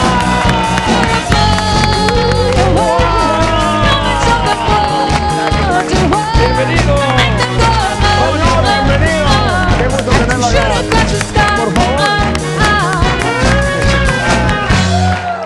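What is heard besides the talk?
audience applauding a guest's arrival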